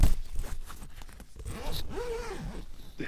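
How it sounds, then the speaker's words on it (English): A zipper is drawn along a jungle-style camping hammock at a motorcycle campsite, a close rasping pull with a rising and falling tone, amid rustling fabric and faint outdoor background. "If I can actually perform this zipping thing."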